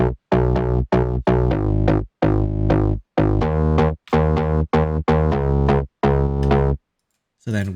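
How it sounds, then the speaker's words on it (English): Bass guitar line for a party house track, played alone as a run of short, punchy notes with rich harmonics, chopped into a steady rhythm before stopping near the end. "And then I had like a bass guitar as well."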